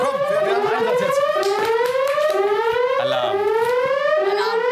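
A wailing alarm siren rises and falls in loud, continuous sweeping tones, filling the whole clip alone without voices, as a training call-out alert in an A-Team exercise setting.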